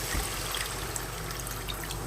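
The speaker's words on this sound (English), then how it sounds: "Now I will add some more water" Water pours steadily into a pot of brown rice, a continuous close splashing trickle with no voices.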